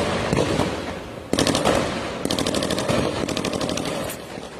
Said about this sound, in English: Take a look at video from one of their gunfights.